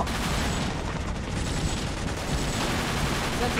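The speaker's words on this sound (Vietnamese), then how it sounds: "We hear a firefight nearby, over." A firefight in the Vietnam War shooter Vietcong 2, dense automatic and rifle fire rattling continuously at a steady moderate level, sounding somewhat removed rather than right at hand.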